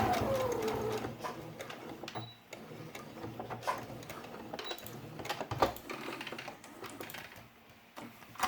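A sewing machine stitches felt pieces for a quiet book with velcro backing, running in short close bursts of rapid whirring with pauses and small clicks between, no talking.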